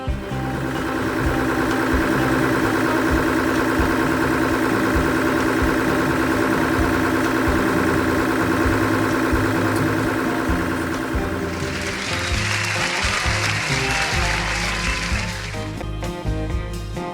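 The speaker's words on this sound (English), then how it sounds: "it's time to test our repaired engine with a short run to Ingram Bay" A repaired boat engine runs steadily during a short cruise to Ingram Bay on America's Great Loop. The drone is loud and continuous, and a broad rush of water or wind joins it for the final few seconds.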